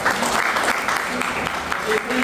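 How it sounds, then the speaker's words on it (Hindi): Audience clapping at a business seminar hall, a sustained mass of hands rising and falling unevenly, partly mixed with a voice or background chatter. "आदरणीय वह साहब के लिए ताली बजाओ"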